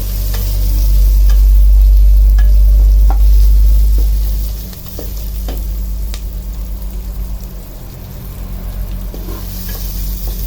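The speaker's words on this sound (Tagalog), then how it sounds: "Haluin hanggang mag-golden brown." Ingredients for chicken sinampalukan with banana heart are stirred and fried until golden brown, a steady sizzle with scattered spatula scrapes over a loud low rumble that drops away midway, and no voices.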